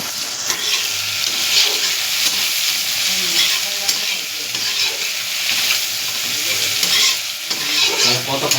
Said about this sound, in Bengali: পেঁয়াজ আদা রসুন কষা হচ্ছে এখন